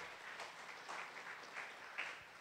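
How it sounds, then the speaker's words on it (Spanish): A church congregation claps in a faint, distant patter of applause, sparse individual claps audible in a quiet room with no talking. "Démosle un aplauso al Señor Jesucristo"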